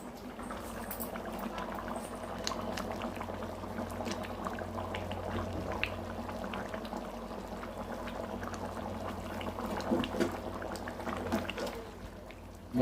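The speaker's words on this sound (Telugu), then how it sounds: "ఇప్పుడు బగారా రైస్ ఉడుకుతుంది." Bagara rice boiling in a pot, soft continuous bubbling and popping close by at low level, with scattered faint clinks and a brief louder knock at the end.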